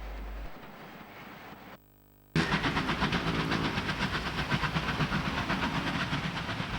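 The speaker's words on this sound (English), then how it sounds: "3616 and 3801 arrive at Yass Junction on the main line with a down special passenger train." Steam locomotives 3616 and 3801 haul a special passenger train into Yass Junction on the main line in New South Wales, a loud hissing, rhythmic chuffing roar that starts abruptly after a brief quieter stretch and a moment of silence.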